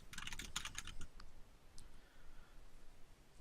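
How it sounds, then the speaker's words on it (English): Rapid clicking keystrokes on a computer keyboard, a dense burst of typing during the first second, then a few sparse taps fading into a low background hum, close and without speech. "I'm typing secret stuff."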